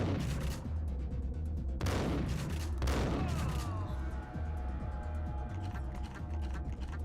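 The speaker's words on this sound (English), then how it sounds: "Of course, there's a guy shooting me up there." Enemy gunfire in the Max Payne video game: loud, dense bursts of shots and booming impacts, with sharp volleys near the start and then a continuous rattle of fire.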